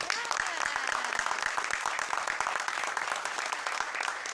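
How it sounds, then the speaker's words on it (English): Audience applause at a borough council meeting, brisk close clapping from a modest crowd, sharp individual claps audible, with a voice briefly mixed in. "Round of applause for Councilwoman Cherry."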